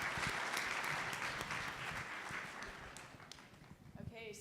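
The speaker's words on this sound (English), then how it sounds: "Can I get a big round of applause for all of our panelists" Audience applause for panelists at a healthcare conference panel discussion, a dense wash of many hands clapping at once. It thins out near the end as it dies down.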